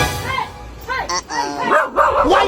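A dog barks in short yips and bow-wows amid talk from several people nearby, the barks scattered through the clip.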